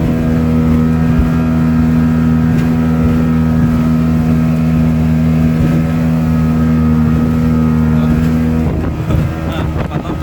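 A speedboat crossing large sea waves between Penajam and Balikpapan in the afternoon roars with a loud, constant engine drone and wind buffeting, with a jolt near the end.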